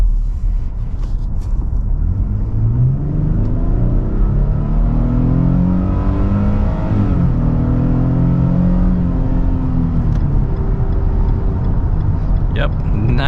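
A 2022 Nissan Frontier PRO-4X with its 3.8 V6 and 9-speed automatic accelerating hard from inside the cab, the engine note climbing loudly and steadily through a shift, with road rumble beneath.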